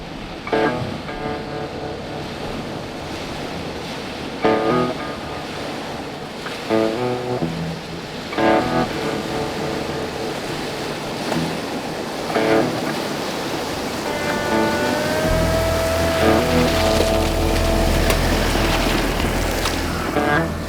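A bakkie drives through the Olifants River in the Tankwa Karoo, with a broad rushing wash of water splashing around the vehicle under the rumble of the engine, growing louder and heavier toward the end.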